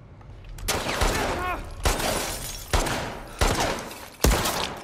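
Gunfire in The Last of Us Part 2 Remastered on PS5: four or five loud, sharp shots spaced about a second apart, each with a booming tail, rolling over a dense, noisy background.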